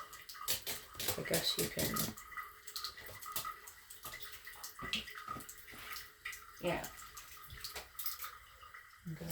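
Hot water runs from a tap onto fabric stain swatches, a steady close splashing stream with intermittent clatter and handling noises while a person talks briefly.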